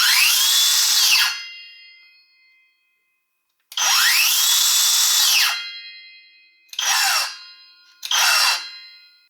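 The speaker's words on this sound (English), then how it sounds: "Let's finish off this circular saw segment with a sound and weight test." A Skil 3575 circular saw runs free and alone in a sound test. It gives two long whining spin-ups, each winding down, followed by two short bursts. The saw is close and fairly quiet, with silence in between.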